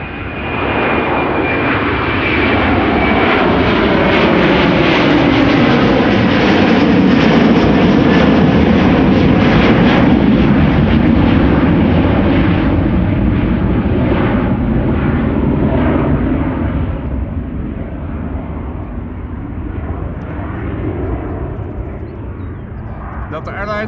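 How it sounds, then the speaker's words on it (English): Airbus A330 jet departing Amsterdam Schiphol on flight 133 to Detroit, a loud roaring engine thrust that swells to a peak near the middle and slowly fades, with a voice talking over the noise. "Airlines flight 133, the first A330 of the show, going to Detroit"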